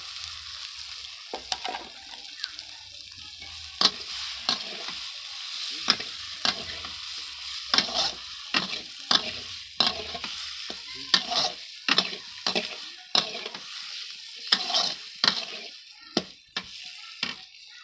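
Fried cauliflower and potatoes stirred into sizzling spices in a pan, sharp regular scrapes of a spatula over a constant frying hiss, close and without talk.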